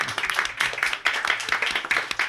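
Applause from a live audience aboard a boat during a wine-themed broadcast, a short burst of dense clapping with uneven swells, fairly close and steady for a couple of seconds.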